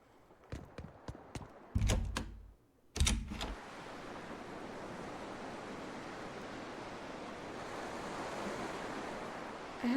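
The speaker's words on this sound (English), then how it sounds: "nothing beats the sound of waves to lull you" Ocean waves in the Tales of Berseria video game wash in a soft, continuous surf hiss, preceded by a few sharp clicks and brief thumps at the start.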